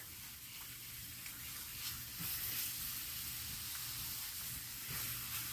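Ground turkey sizzles in a pan while a spatula breaks it up, a steady close hiss with soft scraping and stirring pulses, no talking.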